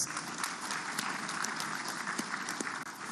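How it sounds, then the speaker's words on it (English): Audience applause at a celebration event honoring a retired general, steady dense clapping throughout without pause, moderately distant and even in level. "And I think we should clap for these young guys."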